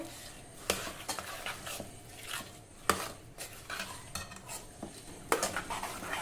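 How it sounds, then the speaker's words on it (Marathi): A spoon stirs jaggery and wheat kheer in a pot, making quiet, irregular clinks and scrapes against the metal with faint bubbling between the strokes. "आता आपण हे जरा मिक्स करून घेऊ"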